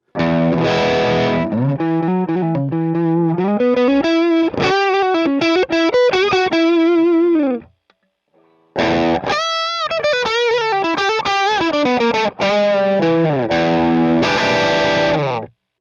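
Heavily distorted electric guitar through an amp, miked with an AKG C414 condenser, plays loud sustained chords and riffs with a short break midway and no talking.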